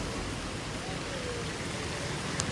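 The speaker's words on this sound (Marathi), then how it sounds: "कसलो पाऊस इलो बघा, एकदम तुफान" Heavy monsoon rain pours down by a lake in Kankavli as a dense, continuous roar of noise, steady and loud throughout.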